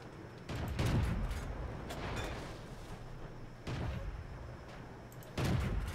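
Tank cannons in World of Tanks fire in three heavy, muffled booms spaced a few seconds apart, each over a low rumbling battle din with no voices.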